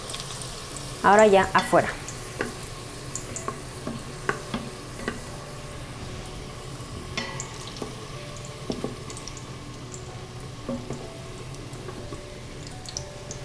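Carnitas frying in lard in a pot, a steady low sizzle throughout with a brief louder burst of clatter near the start, and a short spoken phrase over it.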